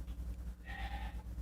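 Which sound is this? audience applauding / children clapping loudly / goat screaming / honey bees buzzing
goat screaming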